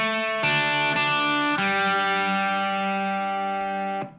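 Electric guitar with a distorted effects tone playing the Crosby, Stills, Nash & Young "Ohio" intro riff, a few sustained notes struck in sequence, with the last one ringing out before cutting off; no talking.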